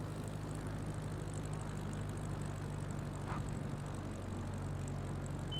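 A propeller airplane in Microsoft Flight Simulator drones steadily on a bush-strip landing approach in Alaska while flaring, a constant loud engine hum with low tonal bands and no voices.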